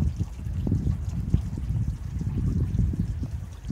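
Water trickles and pours steadily onto the soil of a potted plant, with soft uneven splashes and gurgles up close.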